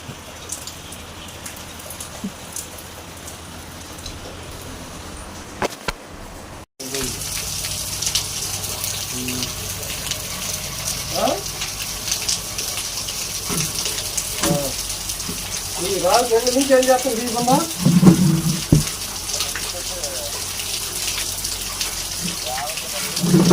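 Rain falls steadily over farm fields in a continuous hiss with patters of drops, growing heavier partway through, while people talk briefly in the background.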